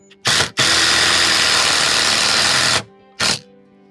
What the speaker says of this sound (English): that noise you heard between the drill type noise and then that kind of pounding, that was the impact doing its job